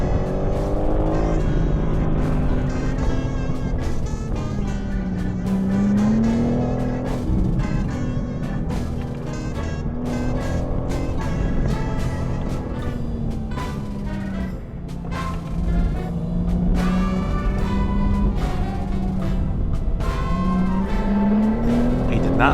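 A BMW M4 G82 engine wails loudly on a race track, its pitch climbing and falling repeatedly as it shifts through gears at speed through a chicane, with occasional voices and other car noise mixed in.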